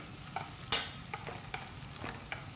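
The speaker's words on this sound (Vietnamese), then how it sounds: "Và cái thời gian mà mình xào cái tôm đó quý vị cũng khoảng 2-3 phút là được rồi" Shrimp stir-fried in a pan for a pumpkin and shrimp soup, a soft steady sizzle with a few sharp scraping stirs of the utensil, fairly quiet and without voices.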